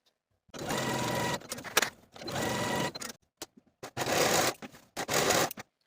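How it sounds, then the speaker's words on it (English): Serger overlocking the seams of a peplum top, several loud bursts of rapid buzzing stitching separated by short pauses and small clicks, close up. "I'm going to be using my serger"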